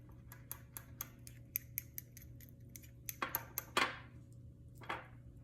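Gel polish stirred inside its small pot gives a faint series of light, irregular clicks and taps, with a few sharper scrapes near the end and no talking.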